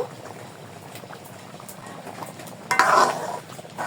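Red lentil curry with jute leaves bubbling steadily in a pan, a soft continuous simmer that swells into a louder burst of bubbling and stirring near the end.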